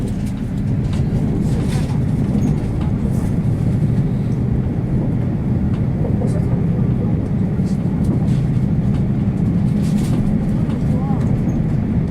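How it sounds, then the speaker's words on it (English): Inside a moving TransPennine Express passenger train bound for Liverpool Lime Street, a steady low rumble and rolling drone of the carriage continues throughout, loud and unbroken, under an onboard announcement voice. "This is a TransPennine Express service to Liverpool Lime Street."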